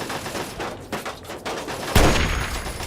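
Sniper rifle shots in Fallout 3, a few muffled reports amid a busy background of gunfire, ending with one louder, sharper crack near the end.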